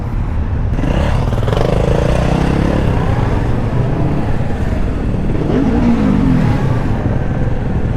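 A group of dirt bikes and supermotos ride through city streets, their engines droning loudly and continuously with rising and falling revs as they pass close by.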